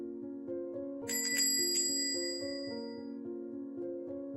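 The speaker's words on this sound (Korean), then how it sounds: "출입구에 걸어둔 종이 울렸다." A small bell hung at an entrance door jingles a few times, bright metallic rings standing out over a soft repeating musical background, then fading.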